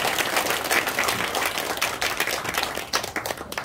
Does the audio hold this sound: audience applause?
yes